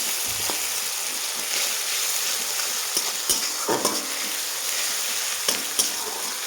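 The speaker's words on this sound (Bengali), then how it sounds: "এই দিয়ে দিলাম রসুন বাটা, রসুনটাও একটু ভেজে নেব।" Continuous loud sizzle of garlic paste frying in hot oil, with occasional spatters and a few scrapes of a spoon against the pan.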